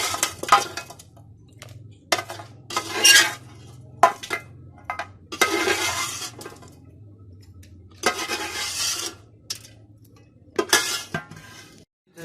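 Someone washes a cooking pot in a home kitchen, with water running over it in repeated bursts and metal scraping and clinking against the pot between pauses. The sounds are close and there is no talk.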